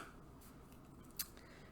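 Small scissors snip a loose embroidery thread in a quiet room, a single crisp cut standing out against faint background hiss.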